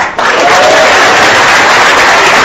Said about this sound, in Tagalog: Salamat sa mga palakpak nyo.